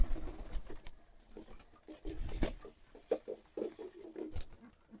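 Pigeons feeding inside their loft: busy pecking, scratching and wing-flutter patter, with scattered soft coos, close by and continuous.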